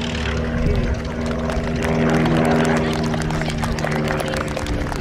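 A Pitts Model 12 aerobatic biplane drones steadily on its landing approach at an air show, with an even, buzzing engine tone and an announcer talking over it.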